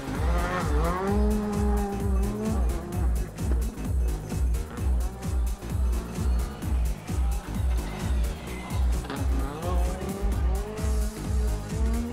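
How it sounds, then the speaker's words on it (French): A Rally2 ex-R5 rally car on the start line of a Rallye du Chablais stage at Champéry, its engine running loud and close with a pulsing, rhythmic roar that rises in pitch as it revs, heard alone. "Rallye 2 ex-R5 comme celle de Cédric Althaus qui est sur la ligne et qui va partir dans moins de 15 secondes maintenant"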